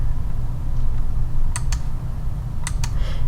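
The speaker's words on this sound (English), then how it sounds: "Keyboard the letter V to turn our cursor to the running stitch" Computer keyboard keys pressed during embroidery digitizing software work, two pairs of sharp close clicks over a steady low hum, with no voices.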